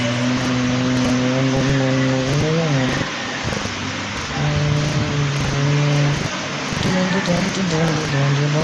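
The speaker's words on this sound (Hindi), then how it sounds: "अरे ये ट्रैक्टर है" A cartoon tractor engine runs steadily with a loud, droning hum, its pitch sagging and rising a few times over continuous background noise.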